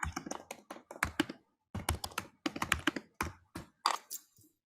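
Fingers type quickly on a computer keyboard close by, in bursts of clicking keystrokes separated by short pauses.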